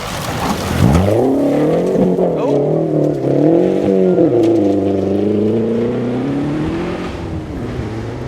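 A Scion XD rally car drives a stage of the 2012 STPR Rally, its engine loud and close, revving up and down through the gears with tire noise and crowd or commentary sound faint beneath.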